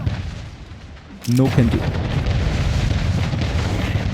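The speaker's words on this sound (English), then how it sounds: "those smaller cannons are doing a very good job at destroying at least one of my ships" Cannons boom in naval combat in the video game Anno 1800, a heavy blast erupting into a sustained rumbling barrage against ships, with someone speaking briefly over it.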